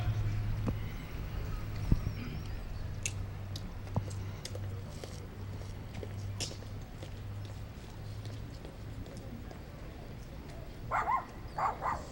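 Parade horses' hooves clop unevenly on hard ground amid outdoor ambience, a low hum running underneath, with a voice speaking briefly near the end.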